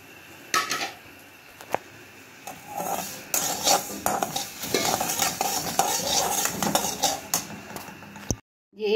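Spices with green chillies and finely chopped carrot and radish roast in a pan, a spoon scraping and stirring in irregular clinks and rasps over a soft sizzle, ending abruptly in near silence.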